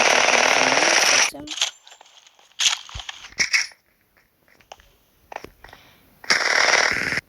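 A gun fires in the video game Craftmania, with loud bursts of rapid shots at the start and end and scattered single shots and clicks between.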